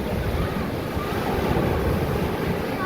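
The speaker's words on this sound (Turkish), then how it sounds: "Evet çok dalgalı." A rough sea roars continuously at Mahmutlar, Alanya, with heavy surf and wind blending into a dense, unbroken wash of noise.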